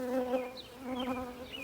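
Honey bees hum and buzz close by in an open hive, a soft, steady drone with wavering pitch and no voices.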